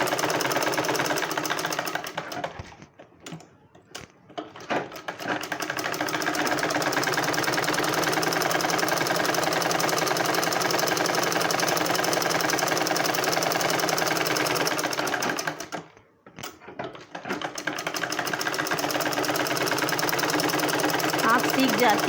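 A sewing machine stitches blouse fabric in a long steady whirring run, close and loud, with a couple of brief pauses where the needle stops before starting up again.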